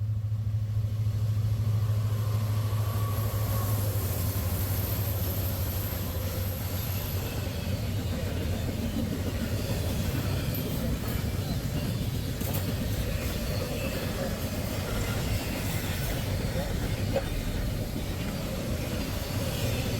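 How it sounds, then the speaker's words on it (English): A train rumbles past close by at a junction in Rittman, Ohio, with a low steady roar, clattering wheels and a faint squeal of metal early on. "Got a train coming."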